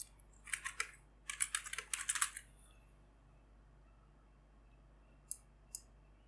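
A username is typed on a computer keyboard during an operating system setup: two quick bursts of light key clicks, then a pause and a couple of isolated taps, close and crisp in a quiet room.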